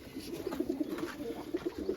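Komando breed pigeons in a loft give soft, low cooing calls, several short murmuring coos repeating faintly against a quiet background.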